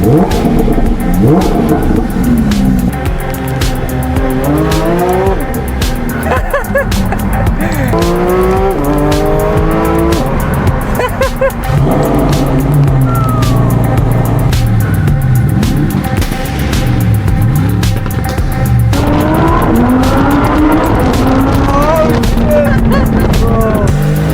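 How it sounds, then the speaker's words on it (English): A car engine idles and revs in a race paddock, its harmonic tone rising and falling repeatedly over a steady loud bed of running engine noise, with a voice talking faintly at times. "We just turned on the car, boys."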